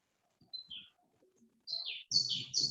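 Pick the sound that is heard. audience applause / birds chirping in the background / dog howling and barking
birds chirping in the background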